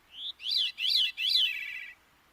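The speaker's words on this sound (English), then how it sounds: "That lets some songbirds, like this veery, sing two separate melodies at the same time." A veery sings a short song of several rising and falling whistled phrases, two melodies at once, one rising while the other descends; the bird is clear and fairly close, with no other sounds.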